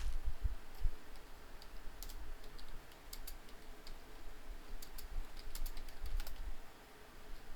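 Computer keyboard typing during a Minecraft play session, scattered bursts of soft key clicks at moderate distance over a steady low room hum, uneven rhythm with short pauses between runs of keystrokes.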